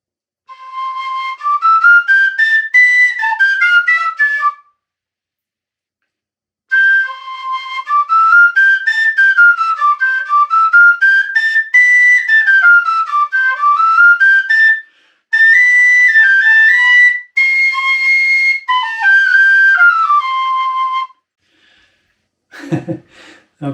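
A Shearwater Narrow Head C tin whistle plays in its second octave, bright, clear rising and falling phrases sounding close and loud, broken by two short pauses, with a breath at the very end.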